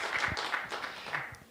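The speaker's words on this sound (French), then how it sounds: "Voilà, on acclame." Audience applause at a gospel worship event, a dense spread of many hands clapping steadily for about a second and a half, moderately loud, with a few sharper individual claps standing out.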